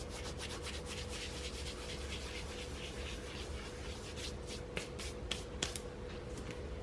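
Salpicon ingredients with oregano being ground by hand, a steady close rubbing and scraping texture over a constant low hum, with a few sharper clicks near the end and no talking.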